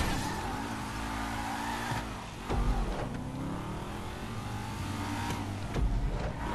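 A car in the video game GTA 5 revs hard with a loud, sustained engine roar, dipping briefly then surging again with short bumps and thuds, no talk over it.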